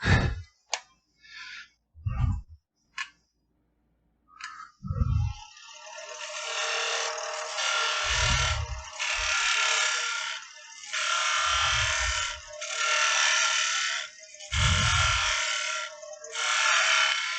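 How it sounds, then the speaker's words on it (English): A sharp spindle gouge takes quick cuts of dried glue off wood spinning on a lathe, giving short harsh bursts of scraping hiss that repeat in even passes, with a few low thumps between them. "I'm going to touch that with my sharper spindle gouge that I can get up in there real quick."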